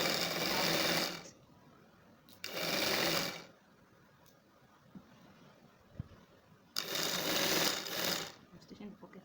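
A sewing machine stitches pockets on a half circle dress, whirring in three separate runs of a second or two each, with quiet pauses between.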